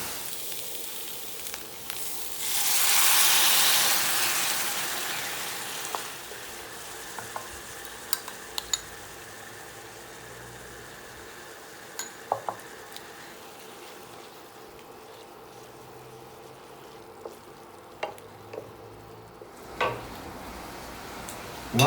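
Tomato paste sautéing in a pan for a kebab sauce, with a burst of sizzle early on that settles into a quiet, steady fry, broken by occasional utensil clicks and scrapes.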